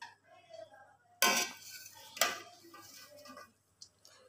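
A lid lifted off a pot of steamed rice, two sharp metallic clanks close up over a faint background hum, followed by a few light clinks.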